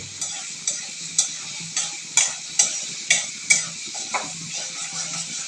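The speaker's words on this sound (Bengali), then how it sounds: "অনেক সুন্দর করে নাড়াচাড়া করতেছে" Onion and shrimp being stir-fried in a pan, with a steady hiss of sizzling under a regular series of sharp spatula scrapes and knocks against the pan, close up.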